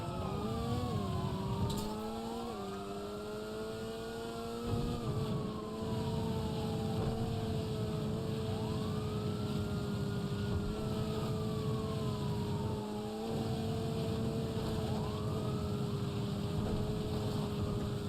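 Police sirens in the video game GTA Online, several wailing sirens rising and falling continuously over a steady engine drone, moderately distant, with no talk.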